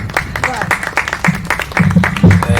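Brief clapping from an audience at a Portuguese public health event, mixed with crowd noise and voices talking over it.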